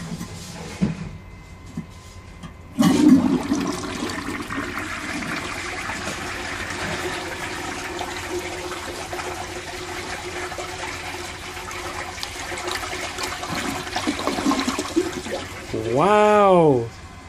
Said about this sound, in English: Wow, this had actually a swish flush, like those ones that use the high tanks.